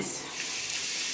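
Water running and splashing while a face is rinsed with fresh water, a steady close hiss lasting about a second with no pauses.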